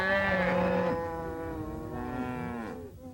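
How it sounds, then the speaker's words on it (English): Cattle on a Louisiana cattle farm low loudly and close by, one long drawn-out moo overlapping another, with no voices. "This is how our cattle drive begins."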